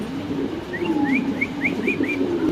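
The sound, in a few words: pigeons cooing, white fancy pigeons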